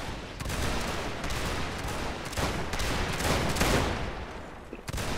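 Ragged musket volleys fire from an infantry line in a multiplayer game, many overlapping shots crackling in bursts over several seconds, fairly distant and dense, with no talk.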